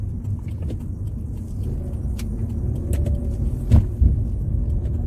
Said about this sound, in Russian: Старая машина. И вот эту модель, я вот не помню, что это, Nissan или нет.